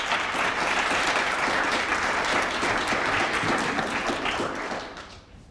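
A large audience at an education event on opportunity and equity for students breaks into sustained, dense applause welcoming a panel of speakers, steady and loud before tapering off at the end.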